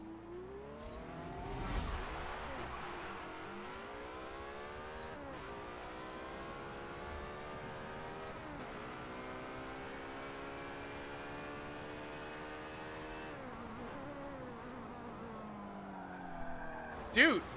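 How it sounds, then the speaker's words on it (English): Race car engine in the Forza Motorsport 7 driving game, revving up through gears with repeated rising whines and brief shift dips, steady and prominent under occasional faint talk. "Okay, this is a completely different car."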